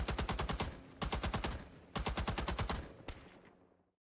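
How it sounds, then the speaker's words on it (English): An enemy machine gun fires in a Vietnam War video game, sounding as three rapid, loud bursts of closely spaced shots, each about a second long, ending in a single shot and a fading echo. "Enemy machine gun shot me."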